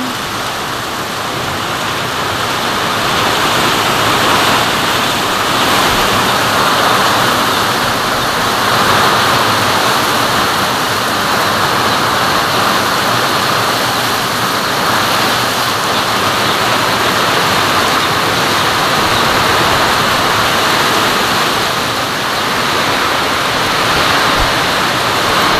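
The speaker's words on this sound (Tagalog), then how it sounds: "Kapaligo ng ulan!" Heavy rain pours down in a loud, unbroken roar, a dense steady wash of drumming water that holds at full intensity throughout, with no voices over it.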